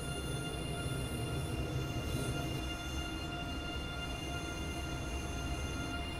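ICE 3 high-speed train running in Train Sim World 4 on a line toward Augsburg, a steady, loud rolling rumble with a continuous whine and hum throughout, no voices.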